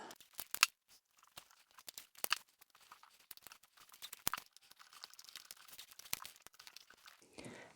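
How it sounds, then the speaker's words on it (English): Tape torn and pressed over cylinder head parts during a rebuild of a Coscast C20XE head, a quiet sequence of short sharp rips and crinkles with soft rustling between. "So I might as well tape them up while we're here."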